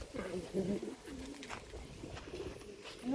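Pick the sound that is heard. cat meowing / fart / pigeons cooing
pigeons cooing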